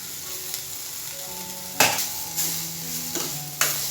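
Coriander leaves sauté in a pan, giving a steady sizzle under a faint tonal hum, with three sharp scraping stirs from a utensil spaced about a second apart.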